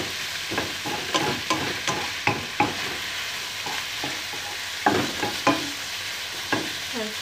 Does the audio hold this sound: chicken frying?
yes